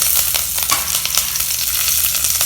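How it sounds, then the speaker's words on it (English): Mustard seeds, urad dal and curry leaves fry in hot oil, giving a steady close sizzle with scattered crackles and pops throughout, no voices. "Add some mustard seeds to it. Add urad dal, a few curry leaves,"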